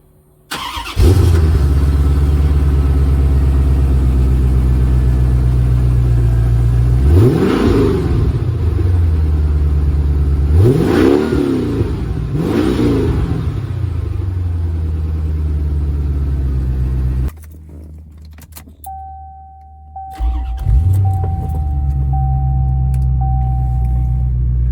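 A Chevrolet Corvette C4 engine cranks and starts, then settles into a loud, close idle broken by three sharp revs; the engine cuts off, a steady tone sounds, and it fires up again.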